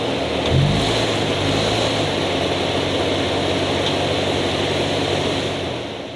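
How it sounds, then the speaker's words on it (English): A Subaru Outback Wilderness engine revs hard on an off-road trail near Moab, holding a loud, sustained roar close by for several seconds before easing slightly at the end, with no talk. "The driver was on the gas and now has to back up and move forward with a little more momentum."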